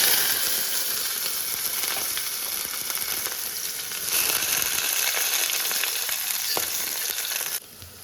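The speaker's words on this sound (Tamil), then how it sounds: "இப்போ தாளிப்பு கொடுத்துடலாங்க கொஞ்சமாக எண்ணெய் விட்டுக்கலாம்" Red capsicum tempered in a little hot oil, a dense continuous sizzle and hiss holding steady, close by, then dropping away abruptly near the end.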